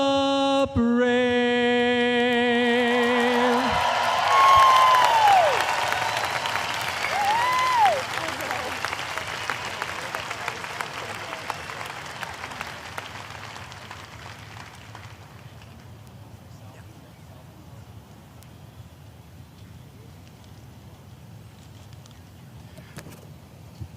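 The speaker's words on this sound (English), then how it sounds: "Keep that round of applause going" Stadium crowd at the 2022 NOBULL CrossFit Games cheering and applauding after the national anthem, a loud burst of clapping and whoops over the final sung note that slowly fades over about twenty seconds.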